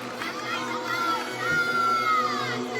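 Home crowd at an LSU versus Mizzou college gymnastics meet during a balance beam routine, a dense arena roar of cheering and whooping with high-pitched shouts rising and swelling, a commentator's voice underneath.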